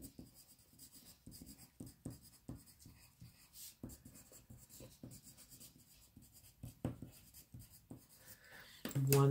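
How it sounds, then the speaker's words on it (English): A pen scratches across paper in quick, faint strokes with short pauses, close and quiet, while a voice talks softly at times. "I'm just writing this down."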